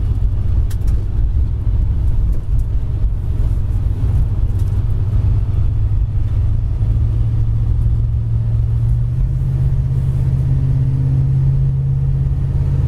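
Steady road rumble and low engine drone from a 1965 Plymouth with 57,000 miles cruising straight down the road, a continuous loud interior hum with a slight rise in engine pitch near the end.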